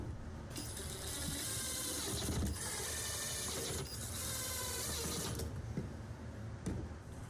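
A wooden face piece is screwed onto a tenoning jig base with a power driver, a steady whirring drive in several bursts with ratcheting clicks and creaks, close and continuous.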